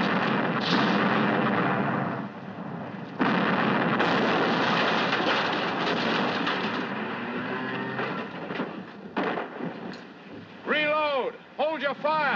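Cannon fire in a 1952 pirate film, dense booming artillery blasts and rumbling explosions in a loud battle mix, with someone shouting briefly near the end.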